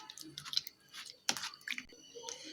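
Chicken pieces are worked by hand with salt and a ground spice paste, making close, wet squelching and squishing sounds in irregular bursts with no talking.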